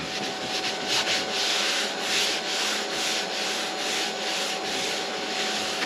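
Old coating being scrubbed off a BMW headlight lens, a continuous close rasping rub with rhythmic back-and-forth strokes.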